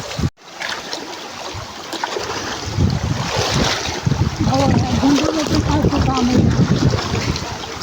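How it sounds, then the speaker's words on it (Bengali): Strong river current and choppy waves wash around a boat in Kalmakanda, Netrokona, with heavy wind buffeting close in; voices are heard briefly over the rushing water. "প্রচুর পানি পানির ঢেউয়ের কারণে যাওয়া যাচ্ছে না"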